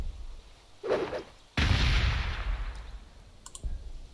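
Crack grenades explode in a Warhammer 40k Gladius Relics of War battle, a sharp clicking burst followed by a loud, sustained blast rumble that slowly tapers, with a few faint clicks afterward.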